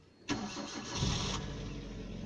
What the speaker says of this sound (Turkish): Arabayı çalıştırdık